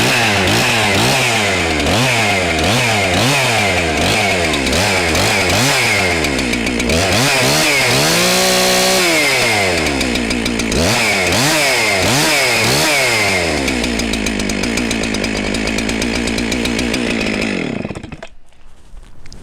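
A Husqvarna 365 Special chainsaw, recently fitted with a new fuel line and air filter, runs loud and close, its engine repeatedly revving up and dropping back in rising-and-falling surges before cutting off at the end.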